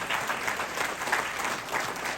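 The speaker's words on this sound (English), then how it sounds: "Please give yourself a round of applause for that." Applause from an audience at a Bangladeshi community family night in New York, a steady, dense wash of clapping that holds evenly through the short stretch without any talk over it.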